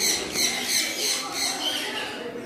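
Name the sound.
birds squawking at an aviary park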